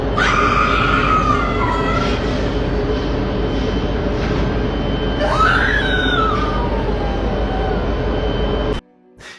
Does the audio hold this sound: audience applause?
no